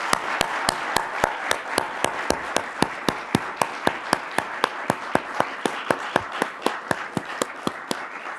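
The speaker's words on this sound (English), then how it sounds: "can we have a round of applause for all of our musicians?" A crowd of listeners at a Marine Band concert applauds for young musicians, a steady loud patter of many hands mixed with sharper individual claps, with no talk over it.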